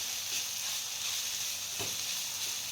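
Carrots and cabbage stir-frying for veg hakka noodles, a soft steady sizzle close in the pan with a brief stirring scrape, no voices.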